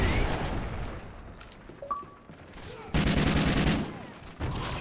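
Gunfire during a Domination match on the Strikezone map in Call of Duty: Ghosts, with shotgun blasts and bursts of rapid shots, loud and close, under game noise with a rough pause between volleys.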